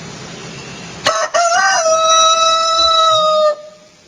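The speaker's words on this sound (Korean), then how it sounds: "닭. 참 보시면 이게 하나님 만들어주셨습니다. 새벽마다 울지 않습니까?" A rooster crows once, loud and close, a single long drawn-out call lasting about two seconds and standing alone against quiet background hiss.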